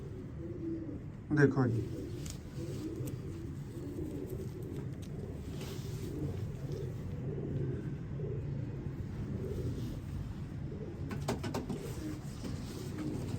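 Breeder pigeons, including a female, coo in a low, soft, continuous murmur from a loft, with a brief flutter or bump early on and someone speaking briefly over the birds.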